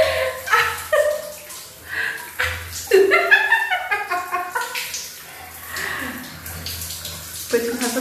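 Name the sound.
water splashing while bathing someone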